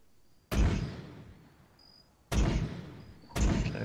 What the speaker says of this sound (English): So that guy's firing off his 4 rounds.